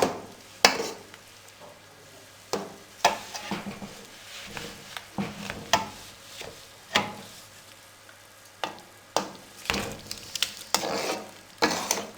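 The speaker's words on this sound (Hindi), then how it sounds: "अब इसमें भुना हुआ सूजी और मैदा थोड़ा थोड़ा करके इसमें डाल देंगे और इसको हम अच्छे से मिक्स करते जाएंगे।" Roasted semolina and refined flour added a little at a time to a hot pan and stirred, giving scattered scraping and stirring strokes over a soft sizzle, irregular and fairly close, with no talking.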